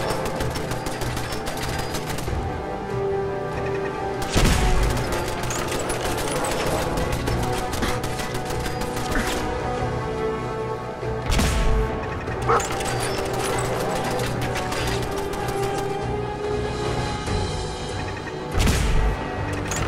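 Automated turret gunfire in Fallout 4, heard as rapid bursts of shots with sharp crashing impacts recurring through a steady, busy game soundscape.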